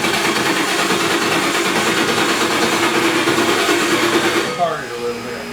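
Old Ford starter motor cranking on the back of an engine dyno, a loud continuous whirring grind that holds steady for several seconds, then cuts off abruptly and leaves quieter shop sounds.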